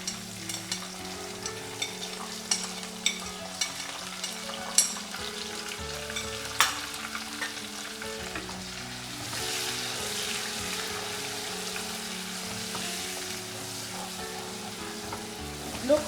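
Onions and locust bean frying over the lowest heat in a pan for ofada sauce, a steady close sizzle with occasional stirring scrapes and small pops throughout, no talking.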